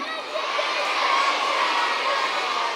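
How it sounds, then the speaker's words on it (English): A gym full of schoolchildren at an assembly shouts and cheers together in one loud, continuous roar with whoops, filling the whole moment without pause. "So shout it out one more time."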